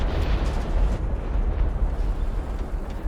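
A Strv m/41 S-II tank's cannon fires in War Thunder, heard as a loud, continuous explosive rumble that stays heavy throughout, with no talk over it.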